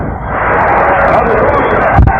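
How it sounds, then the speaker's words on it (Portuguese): A church congregation applauds and shouts praise in a dense, loud wash of clapping and cheering voices, with a heavy thump near the end. "Vamos ouvir aquele barulhão de glórias e palmas ao Senhor Jesus"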